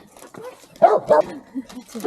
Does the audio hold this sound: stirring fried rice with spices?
no